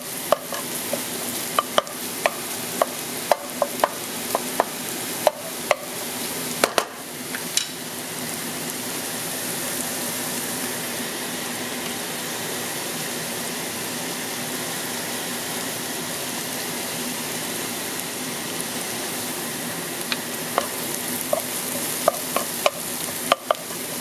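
Shallots frying in a pan before gnocchi goes in: a steady soft sizzle through the whole stretch, with scattered sharp clicks and scrapes of stirring near the start and end, no talking.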